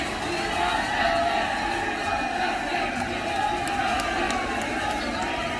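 Angry crowd of protesters in Badlapur, Maharashtra, raising a dense, continuous roar of shouting and clamour that holds steady and loud throughout, with overlapping voices and no single voice standing out.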